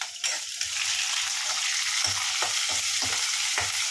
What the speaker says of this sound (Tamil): இது கடுகு பொரிஞ்சிச்சு பாருங்க